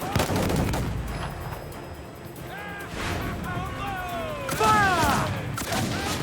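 Naval cannon fire in Assassin's Creed IV, a loud burst of booming shots at the start, then sustained battle noise with more impacts around the middle and end, overlaid by shouting voices.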